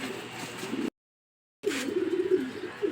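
Racing pigeons coo softly nearby, a low warbling murmur that breaks off into a brief silence and then resumes with rolling throaty coos.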